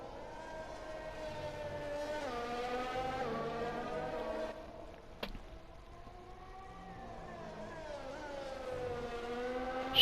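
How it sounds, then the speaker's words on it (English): A Formula 1 race car from the F1 2020 video game at the Russian Grand Prix, its engine droning steadily with rising and falling pitch as it runs through gears, loud and continuous apart from a short dip midway, with no talk over it. "Listen to that car."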